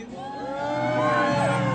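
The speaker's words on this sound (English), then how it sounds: "Can I have a big cheer for the winners, please?" At the St Albans Retailer of the Year Awards, an audience cheers for the winning barbering company, the whoops and shouts rising and swelling over a room of murmuring voices.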